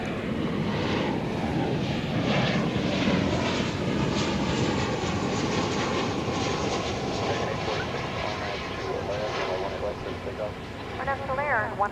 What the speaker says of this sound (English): we also have that Cathay Pacific flight on final approach.